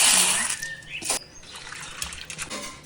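Lentils being rinsed in water by hand, splashes and trickling swirls up close with a few sharp sloshes, faint birdsong behind.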